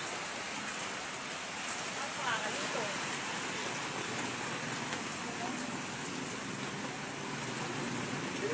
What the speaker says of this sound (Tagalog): Maski malakas ang ulan